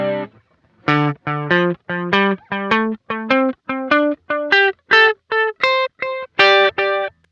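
Guitar notes through a Sonicake Levitate digital delay pedal with feedback at minimum for a single repeat, a rising run of about fifteen short, clean, evenly spaced plucked notes, loud and close.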